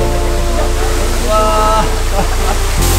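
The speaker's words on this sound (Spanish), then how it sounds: "Ya estamos, en la cascada." A loud, constant roar of rushing water from a waterfall about 20 metres high in Tanzania fills the scene, with faint voices briefly audible beneath the din.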